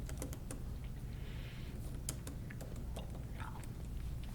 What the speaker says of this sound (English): you may hear me typing a little bit extra